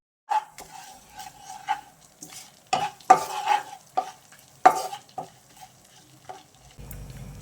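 Whole spices, including cloves, shahjeera, dried red chillies, a small cinnamon stick and cardamom, frying in a pan for mushroom curry while a spoon scrapes and stirs them in repeated short strokes over a soft, steady sizzle.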